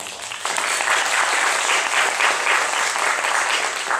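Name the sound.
congregation applause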